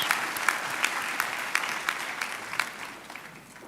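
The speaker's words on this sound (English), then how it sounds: "Can we give another round of applause to" Audience applause for the band at a university graduation ceremony, a dense burst of many hands clapping that fills the room, then fades out over a few seconds with no talk over it.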